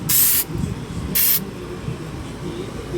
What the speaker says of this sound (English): I spray painted it a little bit